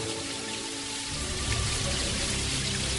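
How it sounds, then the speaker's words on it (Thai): Heavy rain pours down steadily, a dense continuous hiss of drops striking surfaces, with no voices. "เกิดฝนตกหนัก"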